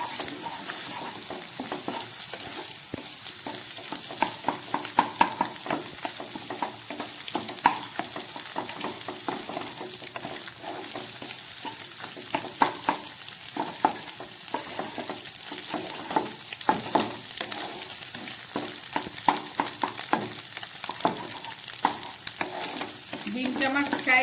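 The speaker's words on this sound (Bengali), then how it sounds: "এবার ডিমটাকে এইভাবে ঘেটে ফ্রাই করে নিতে হবে" Beaten egg seasoned with salt and ground pepper sizzles steadily in a hot pan while a spatula stirs and scrapes it, with frequent light clinks over a continuous frying hiss.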